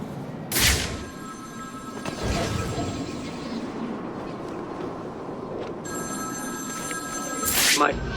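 Telephone bells ring out in Batman Arkham City, with two loud bursts near the start and another near the end, over a steady low ambient rumble with faint voices between the rings.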